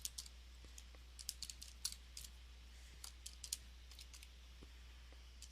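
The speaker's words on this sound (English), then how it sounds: "you could just type that in exactly the way you see it in your calculator" Fingers tapping number keys on a calculator, faint and close, in quick irregular clicks with short pauses over a low steady hum.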